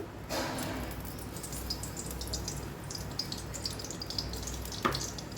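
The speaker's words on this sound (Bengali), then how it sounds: "কড়াইতে একটু তেল দিয়ে দিলাম সামান্য।" A small amount of oil heats in a kadai for a thin Bengali snakehead fish curry, giving a faint, steady hiss and crackle close by, with a light clink near the end and no talking.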